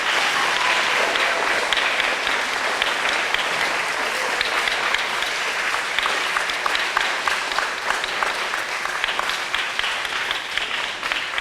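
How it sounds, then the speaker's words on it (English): Steady, dense applause from an outdoor Arbor Day celebration crowd fills the whole stretch, loud and continuous with no talking over it. "Another round of applause for all of them"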